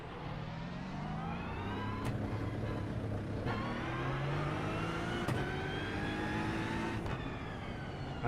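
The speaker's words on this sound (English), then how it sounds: "that's just a deep grunt, the engine." Aston Martin GT3 race car in a racing game on the Sebring circuit, a deep, gruff engine revving up in repeated climbing sweeps broken by quick gear shifts, steady and continuous without voices.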